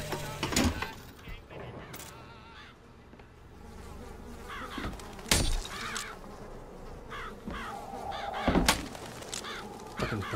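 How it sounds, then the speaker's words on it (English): Game birds cawing in BioShock, harsh repeated crow-like calls scattered across a layered ambient soundscape with insect-like buzzing and a few dull thunks. "Fucking birds."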